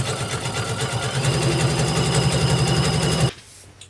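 A sewing machine stitches couch cushion cover fabric, a fast, even mechanical chatter running steadily for about three seconds before stopping abruptly into near silence.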